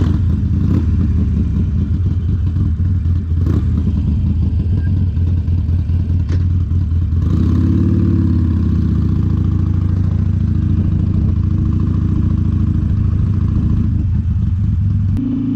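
A Harley motorcycle engine runs throughout a ride with a loud, close, continuous low rumble. The pitch shifts partway through as the revs change, and there is no talk.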